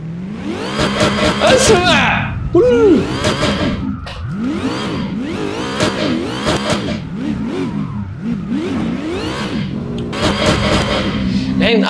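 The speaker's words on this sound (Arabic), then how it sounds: "تون تيربو سوبر تشارج، تون تيربو صوت سوبر تشارج، وشكمان في الكبوت" Car engine revving hard with a turbo and supercharger, plus an exhaust set under the hood, in repeated throttle blips and rising whines, loud and close, with a voice speaking briefly.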